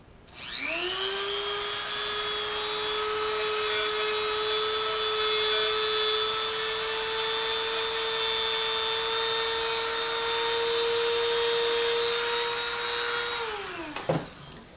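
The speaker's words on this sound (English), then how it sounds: "you just want to take the Dremel, and it's very fast, and just hone down the edges" A high-pitched Dremel rotary tool whines steadily for about thirteen seconds at a constant speed while sanding rough edges off a plastic armor snap plate, then winds down abruptly at the end.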